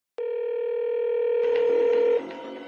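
A telephone line tone sounds as one steady, continuous, fairly loud tone for about two seconds, then cuts off into low room noise.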